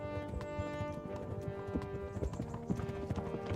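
Horse hooves clip-clop in a steady rapid rhythm while riding in the medieval role-playing game Kingdom Come: Deliverance, close and loud, with faint background music layered under the hoofbeats.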